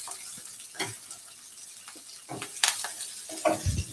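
Fish pieces are stirred in a hot frying pan, a soft steady sizzle broken by scraping strokes and a few sharper clinks and knocks of the utensil, heard up close with no talking.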